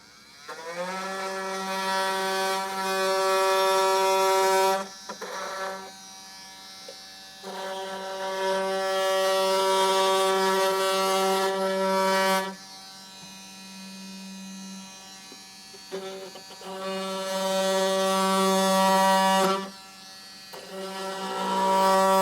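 A power tool buzzes steadily as it cuts through a metal fastener screw on a vehicle during installation of a Roadmaster Direct-Connect base plate. It comes in three long, loud bursts separated by brief pauses.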